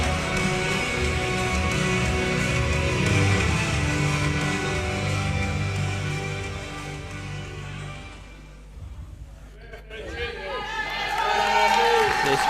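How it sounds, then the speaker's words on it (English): A pro wrestling arena crowd at a Summer Meltdown event chants for a wrestler in a loud rhythmic roar that drops briefly and then swells again, with commentary voices over it. "You can tell as they're chanting Azzy, Azzy, Azzy, oi, oi,"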